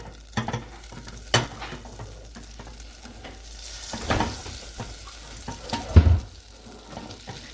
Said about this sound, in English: Simply E, go ahead and stir that butter around in that pan